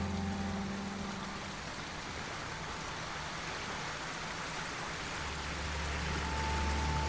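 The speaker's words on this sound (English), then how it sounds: "You're just chilling beside the waterfall?" Steady rushing water from a waterfall in Ghost of Tsushima, a continuous broadband wash that holds at an even level throughout with no voices over it.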